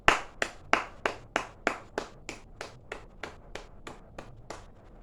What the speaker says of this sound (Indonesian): Beri tepuk tangan kepada Cici.